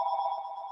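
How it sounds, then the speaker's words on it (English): A mobile phone rings in a meeting room during a legislative committee hearing, a brief steady electronic tone heard alone. "sorry about my phone"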